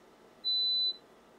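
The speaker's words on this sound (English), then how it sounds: "This bottom trace here is the tone that the computer is playing." A computer plays a single pure electronic test tone as a stimulus for mosquito hearing. The tone is steady and lasts about half a second against a quiet background hiss.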